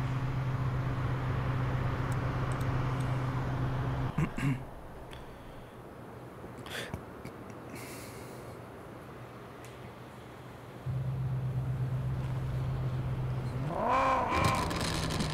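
Engine of a car in the mobile driving game Car Parking Multiplayer, a steady low drone that idles, drops away midway, then returns and sweeps upward in a rev near the end, alone without voices.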